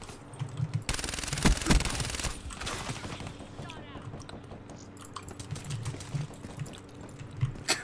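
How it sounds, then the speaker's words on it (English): Rapid bursts of automatic gunfire in Call of Duty Black Ops III, a dense loud volley early on followed by scattered shots and game effects, with a player talking over it. "I'm just shooting randomly"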